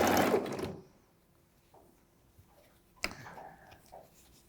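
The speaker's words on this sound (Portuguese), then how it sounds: "Sempre que eu costuro um pedacinho, ó, eu paro, sempre com a agulha dentro" Domestic sewing machine stitching a children's unisex jumpsuit: one loud, close burst of rapid stitching at the start, then quiet with faint handling clicks and a brief rattle later.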